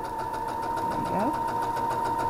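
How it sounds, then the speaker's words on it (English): A sewing machine running along a quilt seam, a steady rapid mechanical whir with a sustained tone, close and even, with a voice speaking briefly over it. "let's go ahead to the machine and sew this together. And we're going to sew the whole seam."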